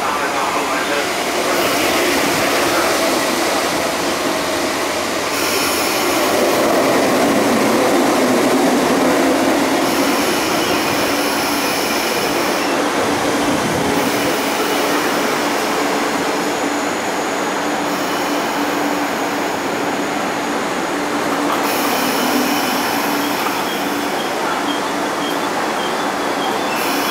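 Locomotive-hauled train T817 passes through MTR Sha Tin station, a sustained rumble of wheels and carriages with faint squealing, heard at moderate level from the platform.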